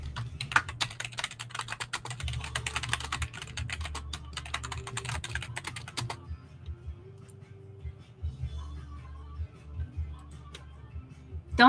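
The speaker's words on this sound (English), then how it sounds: "Let me type this into chat." Fast, dense clatter of typing on a computer keyboard, close and steady, that stops about halfway through and gives way to sparse single key clicks with a faint background hum.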